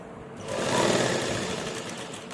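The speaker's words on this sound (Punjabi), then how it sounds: "ਆਪਾਂ ਸਲਾਈ ਕਰ ਦਾਂਗੇ" A sewing machine runs a short burst of stitching along a shirt sleeve, a close, steady whirring hum that starts quickly and holds for about two seconds.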